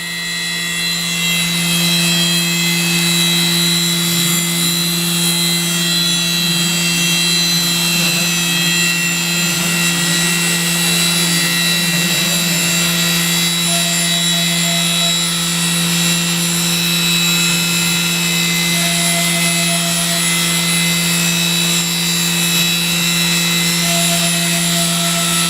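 A CNC mill drills a double-sided PCB with a 1mm bit, giving off a steady, loud high-pitched spindle whine that runs unbroken for the whole stretch, with faint chattering undertones from the cutting.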